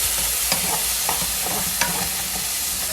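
Onions frying and being stirred in a skillet, a steady close sizzle broken by a few sharp scraping stir strokes, no voices.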